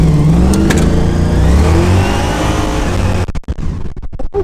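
Car engine revving loudly while the car drives, a steady mid-pitched roar that rises and falls, then breaks into choppy, gusty bursts near the end.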